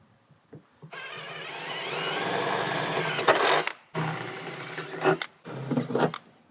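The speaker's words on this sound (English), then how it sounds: "And we'll come in with a 9/32 drill bit." Drill with a 9/32 bit cutting holes in interior panels of a 1967-1972 Chevrolet C10, three loud whirring runs with short pauses between them, the motor pitch rising under load.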